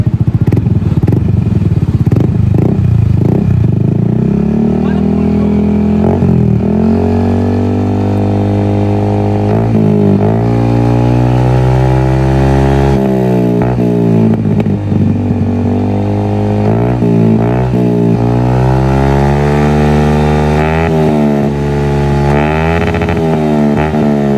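A Yamaha Nmax 155 scooter fitted with an aftermarket Villain muffler and ECU remap, revving loudly and close by, its engine rising and falling in pitch through repeated throttle blips over a steady idle.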